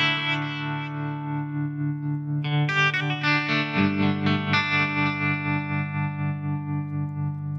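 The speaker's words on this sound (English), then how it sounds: "you can turn on some modulation and hear some tremolo." Electric guitar through a Line6 Floor Pod with modulation on, a sustained distorted chord followed by new strummed notes whose level throbs in a steady tremolo pulse, ringing out with no talk.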